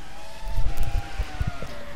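Engine roar and tyre noise from a race car sliding through a corner in an e-racing video game, a loud continuous motor drone with sharp bursts of skid and impact noise.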